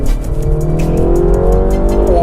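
A Mini Cooper accelerates hard on a wet road, its engine revving up loudly and close with a rising whine and a brief tire squeal, hiss of spray beneath, no voices.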